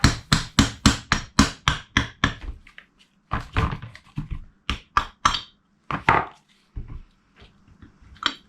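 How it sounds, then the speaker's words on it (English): A dead blow hammer taps repeatedly on an engine cover of a 2003 KTM 250 SX, breaking a silicone seal: a fast run of sharp, loud knocks, a pause, then slower irregular blows that trail off. "I'm just using my dead blow hammer to break the bond of the silicone on this cover."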